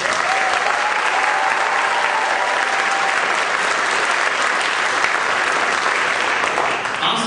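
An audience at a spring concert of a symphonic band and wind ensemble applauds for band students, a steady, full wash of clapping that holds evenly for several seconds before tapering at the very end.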